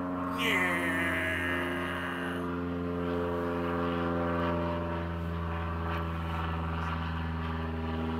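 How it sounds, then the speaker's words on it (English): A stunt plane carrying a wing walker drones overhead, a steady propeller engine hum with a strong low tone that holds evenly, its pitch sliding briefly near the start as it passes. "Stunt plane or something."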